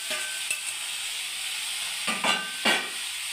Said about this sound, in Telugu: ఇప్పుడు టమోటా వేసుకుంటాం.